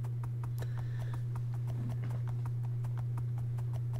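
Horse hooves in a video game give an even, steady clip-clop at a moderate distance over a constant low electrical hum, with no talking.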